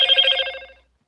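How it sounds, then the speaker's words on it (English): A phone going off during a livestream: a short bright ringing tone that sounds briefly and fades out within a second, clear and close with nothing else over it. "My phone just went off."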